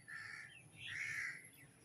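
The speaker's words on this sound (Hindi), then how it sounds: "दिन भर कौवा काँव काँव करते रहता है" A crow caws twice in the distance, two faint, hoarse calls close together over quiet background noise in a hot daytime outdoor setting.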